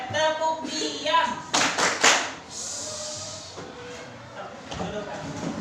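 Classroom pupils performing a short rhythmic clapping routine on cue, a few quick bursts of claps and taps up close, with a teacher's voice and children's voices around them.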